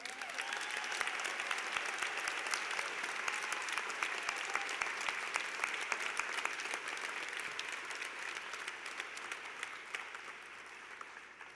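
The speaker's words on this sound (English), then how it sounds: "asking them to give themselves a hand of applause because we actually made it" Graduation ceremony audience at a business school applauding, a large crowd's steady, even clapping heard fairly faint and distant with no talk over it.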